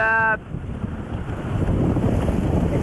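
Steady wind buffeting the microphone with low rumbling gusts, after a brief tonal beep at the start; water noise underneath, no voices.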